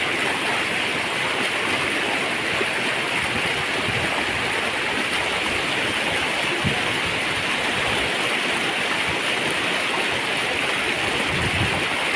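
Flowing stream water rushes and gurgles in a steady, dense wash throughout, close and even in loudness with no voices.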